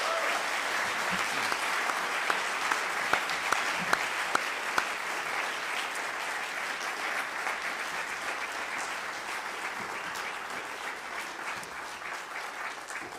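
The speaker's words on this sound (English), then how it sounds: "Can we give another round of applause to all the students?" Sustained audience applause for student percussionists after a percussion group concert, a thick, steady wash of many hands clapping that holds evenly for the whole stretch with a few sharper claps near the start.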